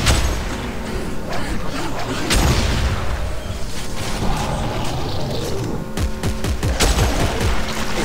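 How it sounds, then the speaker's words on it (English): Seeker rifle in Dead Space 3 firing amid dense game combat, heavy booming shots and mechanical clatter spread across the span, with loud bursts around the middle and near the end over a constant noisy backdrop. "See how overpowered the Seeker rifle is?"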